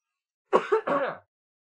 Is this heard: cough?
yes